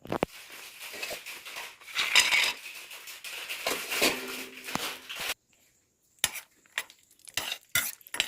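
Cashews stirred in hot ghee in a pan, with a soft constant sizzle under repeated scraping and clinks of a metal spoon against the pan, then a brief near-silent pause followed by a few sharper taps and stirs.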